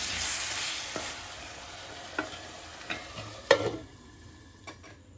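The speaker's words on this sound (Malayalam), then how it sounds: "ഇടയ്ക്ക് ഇളക്കി കൊടുക്കണം ഇതുപോലെ ഇടയ്ക്ക് ഇളക്കി കൊടുത്തിട്ടുണ്ട്" Vegetables cooking in a pan for a vegetable dum biryani are stirred with a few distinct spoon knocks and scrapes over a low sizzle that fades, close and alone.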